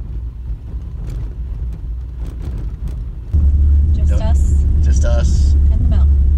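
A car driving on a rural Costa Rican road toward Monteverde, a steady low engine and road rumble that grows louder partway through, with speech over it.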